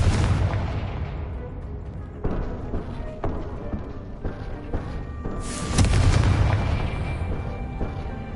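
Fiery blasting spell explosions from the Hogwarts Legacy game on PS5, heavy booming blasts with rumbling decay, one burst near the start and a louder one later, over continuous game ambience.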